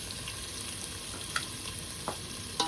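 Onion frying in hot oil while a vegetable dish is made at home, a constant close crackling sizzle with a few small pops and occasional stirring scrapes, no voices.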